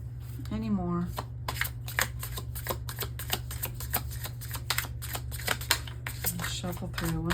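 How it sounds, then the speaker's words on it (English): Tarot cards are riffled and shuffled close to the microphone in a quick series of crisp clicks and flutters, under a steady low hum, with a brief bit of voice near the start. "Shuffle through one more time."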